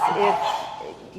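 Pugs bark and yip in quick bursts close by, with people talking over them.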